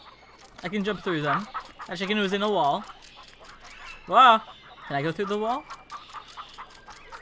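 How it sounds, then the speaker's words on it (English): A chicken clucks in the video game Oikspiel in several short bursts of cackling, close and clear, with a person talking between them. "I can actually control the chicken"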